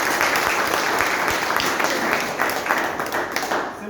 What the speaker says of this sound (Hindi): एक बार सर के लिए तालियां बजा दीजिए